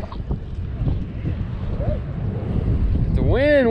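Wind buffets a microphone outdoors on a bass fishing boat in Louisiana, a steady low rumble throughout, with a voice rising over it near the end.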